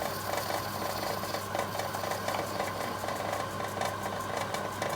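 Steady machining noise of a lathe turning brass with carbide-tipped tools at 640 RPM, a continuous, even mechanical drone with a faint hum and fine cutting texture throughout, no voices.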